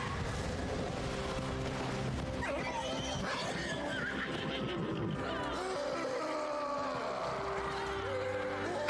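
Horses neighing and whinnying loudly amid a busy, dense soundscape, with hoofbeats clip-clopping underneath and voices talking over the action.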